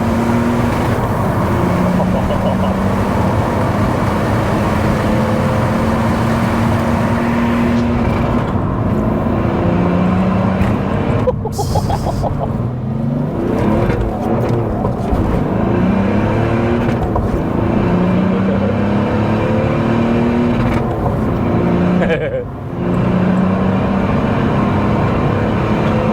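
BMW E46 Compact with a swapped M57 diesel engine producing about 350 bhp, revving loud and close, its engine note climbing and holding high through long gears, with brief dips between pulls.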